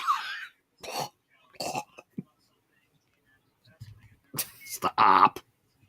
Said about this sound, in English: Bad cough.